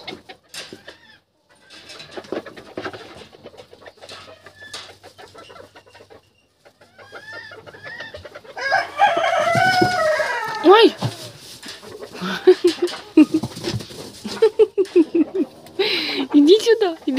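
Farmyard chickens cluck and call, starting faint and sparse, then growing louder and busier with rising squawks, while people talk nearby.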